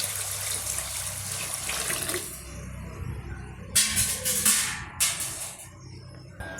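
Ration rice is washed by hand in a bowl of water, giving soft, close sloshing and swishing with a few brighter splashy bursts toward the end, with no talking.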